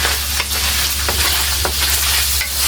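Pork pieces frying in a pan until golden brown, a loud, dense sizzle heard close up, with a few stirring scrapes and a steady low hum underneath.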